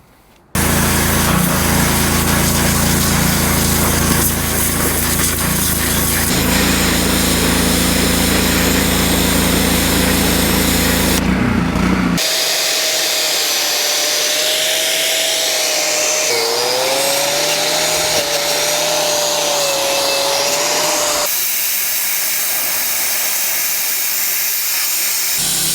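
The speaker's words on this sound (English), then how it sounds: "So I'm gonna pressure wash it and then get my grinding wheel with my wire brush on there and just clean it up." A pressure washer cleans a lowrider car, giving a loud, steady high-pitched hiss and motor whine that runs almost continuously, shifting tone partway through as the spray moves and the pump engine note wavers.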